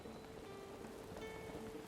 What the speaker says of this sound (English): And unfortunately, it's raining.